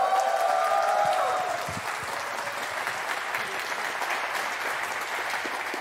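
An audience at a hacker camp talk on game glitching breaks into loud, sustained applause that eases slightly after a couple of seconds and carries on, with a brief voice over the start.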